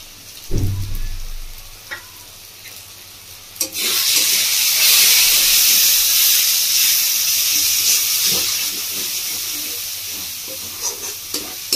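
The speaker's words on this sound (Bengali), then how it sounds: "মশলাটা খুব ভালো করে কষিয়ে নেব।" Whole spice masala sizzling loudly in a pan for Bengali-style black urad dal, a steady bright hiss of frying after a brief thump, continuing alone without talk.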